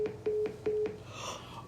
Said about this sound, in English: Their call dropped.